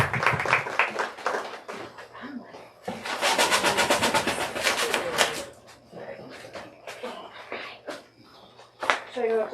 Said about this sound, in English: So let's go ahead and give a big round of applause for them.